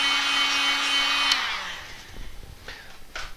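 A hair dryer blows steadily on a wax-finished wooden bowl, then switches off and winds down, leaving faint handling clicks and taps on the bowl.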